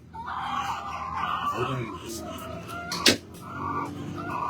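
A chicken clucks and calls nearby while people talk over it, with a brief sharp squawk near the end.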